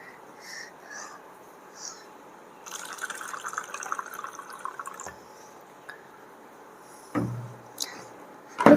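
Warm water is poured in short bursts with drips and trickles in between, close and fairly quiet, with a few louder knocks near the end.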